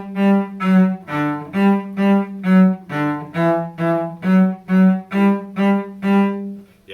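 Cello played with the bow, a series of smooth, sustained bowed notes in a dark, rich low register, about a dozen strokes in an even rhythm, close and clear, with no talking.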